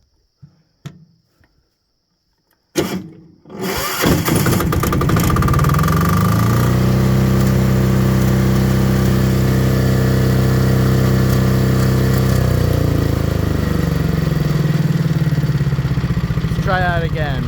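A repaired diesel generator with fuel in the tank cranks after a few faint clicks, catches abruptly and settles into a loud, steady, close running drone with a slight rise and dip in pitch.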